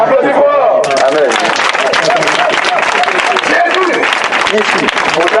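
A church congregation applauds loudly during a deliverance service, with dense, sustained clapping mixed with crowd babble and voices, close and full throughout.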